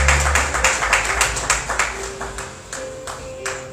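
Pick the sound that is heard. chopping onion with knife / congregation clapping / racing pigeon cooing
congregation clapping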